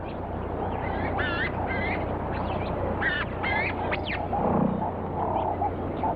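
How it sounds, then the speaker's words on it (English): Rufous-tailed weaver birds in a colony on an acacia limb in Tanzania give repeated short chattering and whistled calls, several overlapping bursts over a steady outdoor background. "a colony of rufous-tailed weaver birds hang their homes"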